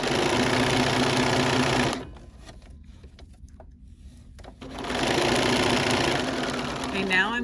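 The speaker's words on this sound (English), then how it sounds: "So I'm gonna lower my presser foot and stitch." A Bernina sewing machine fitted with a walking foot stitches binding onto the back of a quilt, a loud rapid mechanical whir that stops for about three seconds of quiet handling before running again.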